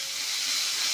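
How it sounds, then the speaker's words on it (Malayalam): Onion with green chilli and curry leaves sautéing in a pan, a continuous close hiss of frying that holds steady throughout with no talk. "ഇത് ഇതിലേക്ക് ഇടുകയാണ്. എന്നിട്ട് നന്നായി വഴറ്റണം."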